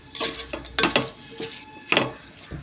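Spoon scraping and clinking against a metal pot while prawn pulao ingredients such as turmeric powder are stirred and mixed, a few irregular clattering strokes close by, no talking.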